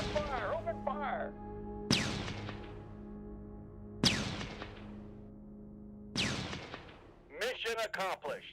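Video game gunfire, three loud single booming shots spaced about two seconds apart, each ringing out and decaying, with a voice talking before and after.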